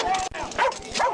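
A police dog barks in short, loud bursts during a chaotic arrest after a car chase, with urgent shouting voices over and around the barks.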